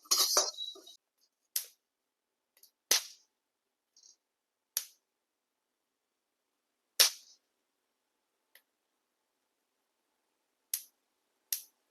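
Whole black peppercorns dry-roasting in a pan for homemade idli podi give off sharp, sparse pops and crackles, about a dozen isolated snaps over quiet background, nearby and crisp.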